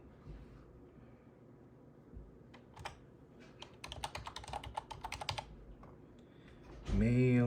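Keys tapped on a computer keyboard while a password is entered during a Proxmox setup, starting sparse and building to a quick close burst of clicks, ending with a short voice.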